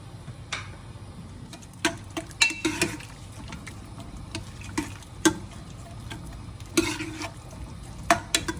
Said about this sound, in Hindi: इसमें 2 लंबे कटे हुए प्याज ऐड करेंगे और इनको डार्क ब्राउन कलर का ब्राउन कर लेना है।